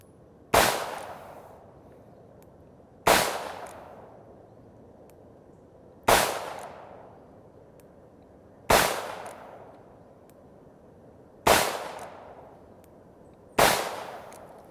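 Six sharp, loud shots from a Rock Island Armory AL3.1 .357 revolver firing Black Hills 148-grain full wadcutter target loads, evenly spaced about two to three seconds apart, each with a short ringing decay.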